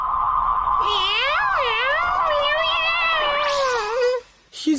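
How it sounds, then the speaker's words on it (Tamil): A cartoon cat in Doraemon meows in one long, wavering, warbling cry that bends up and down in pitch, followed by a short second call, loud and close. "இது ஒரு சாதாரண பூனைப்பா."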